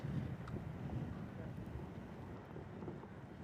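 Wind blowing across a seaside golf course at Bandon Dunes during a U.S. Women's Amateur match, a steady low buffeting rumble on the microphone throughout, with no one speaking.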